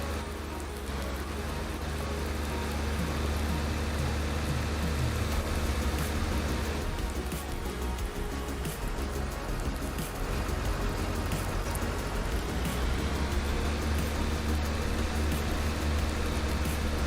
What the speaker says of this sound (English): While we're waiting on the rain